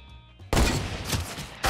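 Gunfire in Fortnite Battle Royale: quiet game ambience breaks into a loud sustained volley of shots lasting about a second, then another sharp burst hits at the end.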